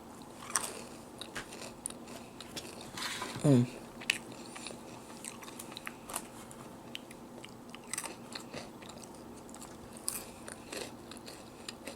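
Close crunching bites and chewing of crisp funnel cake, with one louder crunch early on, then quieter intermittent chewing sounds.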